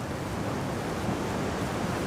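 Wind and surf roar steadily over the Adriatic Sea at a cliff-diving event in Puglia, Italy, a loud, continuous broadband rush of waves and gusts with wind buffeting the microphone and no talk.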